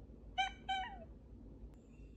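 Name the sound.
cat meowing in a video game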